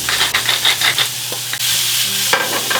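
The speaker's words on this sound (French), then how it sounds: "On va faire cuire l'ail." Garlic sizzling in a hot frying pan while being stirred, a steady close crackle with scraping strokes of a utensil across the pan, loud and continuous with no talk.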